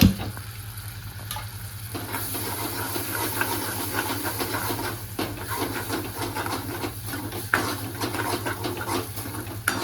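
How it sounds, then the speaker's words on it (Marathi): A paste of ground coconut, garlic and onion sizzles and hisses steadily in a hot pan on a home stove, a continuous frying sound with faint stirring scrapes and no voices. "थोडं परतून घ्यायचं वाटण"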